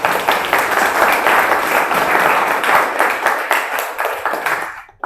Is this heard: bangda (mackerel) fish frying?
no